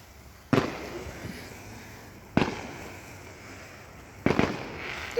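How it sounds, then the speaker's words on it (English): Fireworks go off outdoors in three sharp, loud bursts spaced about two seconds apart, each followed by a crackling tail and a faint background hiss. "There's fireworks going on over there, too!"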